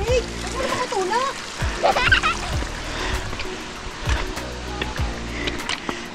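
Footsteps splash through shallow water on a rocky hiking trail near Grassi Lakes in Canmore, Alberta, with repeated close sloshing steps while people talk over them.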